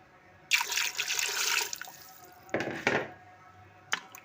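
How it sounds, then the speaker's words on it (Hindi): Water pours into a pot of spiced potato curry cooking with yogurt, a steady splashing stream for about a second, then two shorter pours later, close up and without talk. "इसमें हम थोड़ा सा और पानी ऐड करेंगे।"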